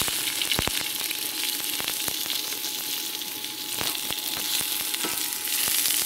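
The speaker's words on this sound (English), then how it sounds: "And you stir fry those onions first." Onions stir-fried with garlic and ginger, a steady loud hiss of oil sizzling with frequent sharp clicks of a utensil against the pan, close and continuous without speech.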